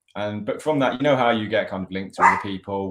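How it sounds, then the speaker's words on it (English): A pet dog barks and yips in the corner of a room, partly buried under a person talking steadily nearby. "I can hear my dog."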